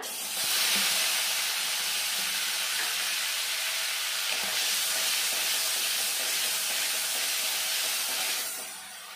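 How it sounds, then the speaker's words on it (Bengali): Onion paste and tomato paste frying in a pan for a rohu fish curry with cauliflower, giving a loud steady hiss and sizzle that holds evenly for several seconds and then eases off near the end, with no talking. "টমেটো পেস্ট, দিয়ে আমি 2 মিনিট মতো কষিয়ে নেব।"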